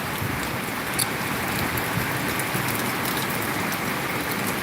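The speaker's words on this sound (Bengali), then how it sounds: "দুবাইয়ের এই মুহূর্তে বৃষ্টি, যেটা আপনাদের লাইভের মাধ্যমে দেখানোর চেষ্টা করছি।" Rain falls steadily in Dubai, a dense, even hiss of drops on surfaces with faint traffic-like rumble underneath, constant from start to finish and no voices.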